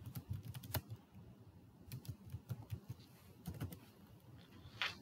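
Someone types a user ID and password into an Oracle ERP login on a computer keyboard. Quick, uneven key clicks run steadily for several seconds, close up and alone.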